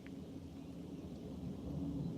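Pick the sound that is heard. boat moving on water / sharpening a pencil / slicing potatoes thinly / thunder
thunder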